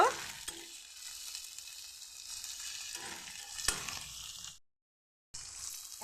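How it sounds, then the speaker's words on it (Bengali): Onions and capsicum sizzle in a pan, a close frying hiss with scrapes and stirring clatters that fades to silence before the sizzle returns. "পেঁয়াজ আর ক্যাপসিকাম দিয়ে দিচ্ছি। অল্প কিছুটা সময় একটু ভেজে নেব।"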